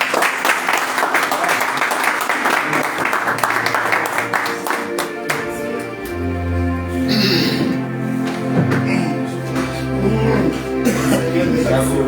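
Loud applause from a congregation at an international church convention, with dense clapping at the start that continues under music and voices speaking over it.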